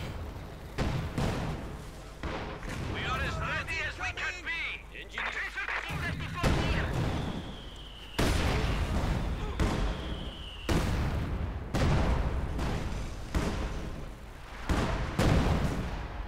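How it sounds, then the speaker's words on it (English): Artillery from a German field gun pounds in the video game Company of Heroes 2, a string of heavy booming blasts at uneven intervals with crackling gunfire and explosions between them, loud and close. "Field gun bombarding there now from the German side."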